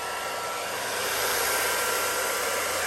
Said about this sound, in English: Handy dandy blow dryer here.